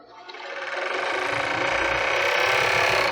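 A sewing machine stitches a lace bra, running steadily with a fast mechanical rattle that stays close and grows slightly louder over a few seconds.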